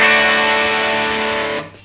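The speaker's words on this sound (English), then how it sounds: "So Tube Screamer Overdrive." Electric guitar through a Tube Screamer overdrive pedal sustains a thick, buzzing chord that slowly fades out, loud and alone.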